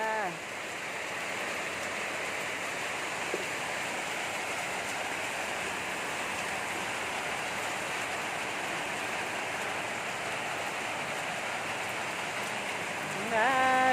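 Steady, even rain hisses continuously, a dense wash of falling water with no breaks.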